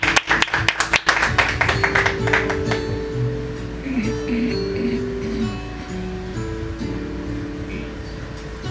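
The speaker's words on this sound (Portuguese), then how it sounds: "E as palmas louvam e exaltam o nome do Senhor." A church congregation at a Wednesday worship service claps hands, a burst of sharp rhythmic claps at the start giving way to a softer patter under sustained organ or keyboard tones.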